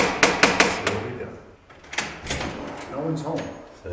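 A small lock on a door clacks and snaps several times in quick, close metallic taps, followed by quieter fumbling while a person talks.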